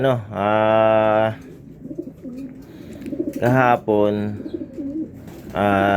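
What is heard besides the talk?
pigeons cooing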